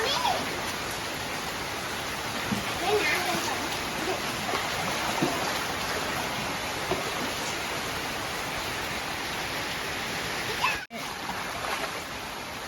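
Heavy rain pouring onto a flooded house yard, a dense, loud, constant hiss of drops splashing into standing water that fills the whole stretch, with a brief dropout near the end.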